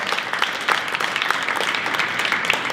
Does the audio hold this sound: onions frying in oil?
no